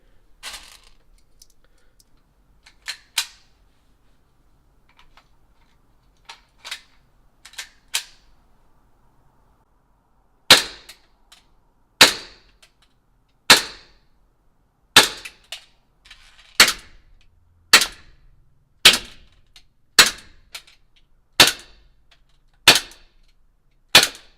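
An AW Custom A180 gas blowback pistol firing BBs, first a few scattered sharp cracks, then a steady string of about a dozen loud snapping shots spaced just over a second apart, with no talk.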